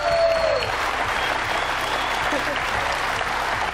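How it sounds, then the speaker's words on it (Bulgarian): Studio audience at a TV show applauding the hostesses, dense sustained clapping throughout, with a brief tone at the start and faint background sounds. "Аплодисменти за господица Славена."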